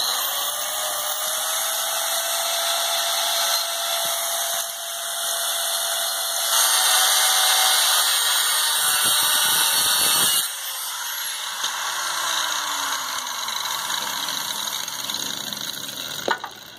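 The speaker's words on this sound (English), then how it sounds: "now you notice you just have a little bit to grind off." A power grinder works on an S10 truck frame with a continuous high whine and harsh metallic grinding, its pitch shifting as pressure changes, loud and close with brief dips, no voices.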